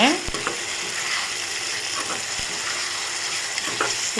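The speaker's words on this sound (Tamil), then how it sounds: "தக்காளி நல்லா இந்த மாதிரி வதக்கிக்கோங்க" Tomato and okra being sautéed in a pan for a dry okra stir-fry, with a steady broadband sizzle throughout and a few sharp spatula scrapes and taps against the pan, close and loud with no talking.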